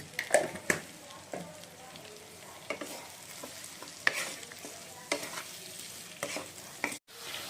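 Tomatoes sprinkled with a little salt cook in a pan, giving a soft steady sizzle broken by repeated scraping and clacking strokes of a stirring spoon.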